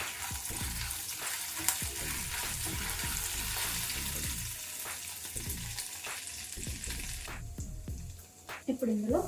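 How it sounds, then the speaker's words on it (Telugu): Peanuts and urad dal frying in hot oil in a pan, a steady close sizzle with scraping stirring and clinks throughout, continuing as a pan-and-spoon clatter near the end. "ఇప్పుడు ఇందులో మనకి ఇవి కొంచెం దూరగా వేగుతున్నాయి కదా"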